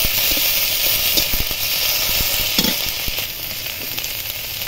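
A ginger, cumin and green chili paste fries in a pan with a loud, steady sizzle and hiss. Occasional soft scrapes and knocks of stirring sound over it, up close.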